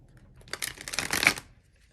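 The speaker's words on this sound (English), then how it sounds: "Just going to shuffle one more time." A deck of tarot cards gets shuffled close up in one quick riffle lasting about a second, a crisp flurry of card edges that rises and then stops in an otherwise quiet room.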